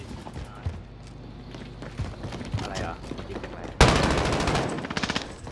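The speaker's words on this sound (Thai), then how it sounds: "ไอ้เนี่ยมันใช้ลูกซองยิงครับ" Shotgun blasts ring out in Call of Duty: Modern Warfare, a loud burst of heavy booming fire that erupts suddenly after a stretch of gameplay sounds, while someone talks excitedly in between.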